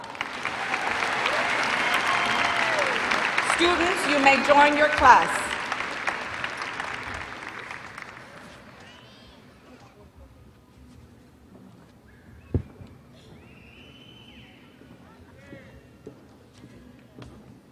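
Broad, steady applause from a large audience at a Martin High School graduation ceremony fills the first half and then fades away, followed by a quieter stretch in which a voice speaks over a public address system.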